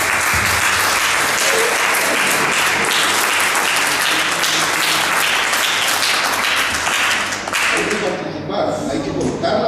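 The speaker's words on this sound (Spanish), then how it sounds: "Un aplauso para..." Sustained applause from an audience at a tribute ceremony honoring a reserve first lieutenant, dense and steady for most of the stretch before thinning briefly near the end, with faint voices underneath.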